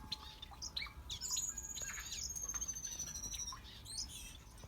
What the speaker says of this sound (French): Très joli oiseau, ventre orange